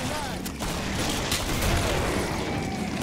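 Shotgun fire in a Killing Floor match pops steadily under a constant wash of game noise and mechanical clatter, with a few sharper blasts standing out.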